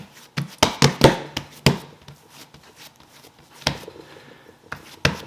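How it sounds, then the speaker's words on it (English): Risen whole wheat bread dough being punched down by hand: a series of soft, dull thumps and slaps, irregular and close, clustered early and then spaced out, with quieter handling noise between them. "So we'll just kind of punch it down."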